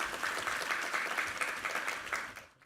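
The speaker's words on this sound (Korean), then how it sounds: "우리 하나님께 감사와 영광의 박수 올려드리겠습니다." A church congregation applauds at a Sunday service, a moderately quiet burst of many hands clapping with a slightly pulsing rhythm that fades out abruptly at the close.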